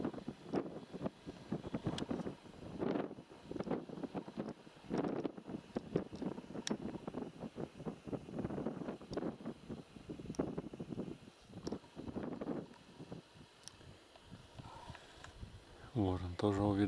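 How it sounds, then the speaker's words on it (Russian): Wind blowing through a winter forest while riding on horseback, a steady gusty rumble over the microphone throughout, with someone speaking quietly over it. "Ветер ровно от нас дует."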